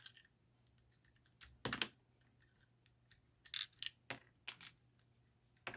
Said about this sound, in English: Let's see if I can get that one out with the paper clip.